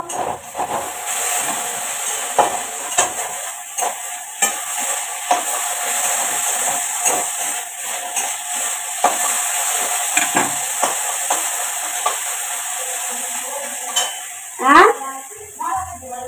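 Potatoes sizzle and hiss frying in a pan while a utensil scrapes and clacks against it in irregular stirring strokes.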